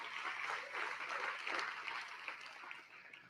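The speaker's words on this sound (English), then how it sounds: "Round of applause for her, too." An audience at a film festival awards ceremony claps after a screening tribute, a faint, distant wash of steady applause that tapers off over a few seconds.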